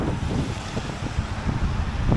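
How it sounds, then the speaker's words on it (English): Wind blows on a cold, cloudy day in central London near the river, a steady close buffeting rush against the microphone with low rumbling gusts and no talk. "and it's a windy day."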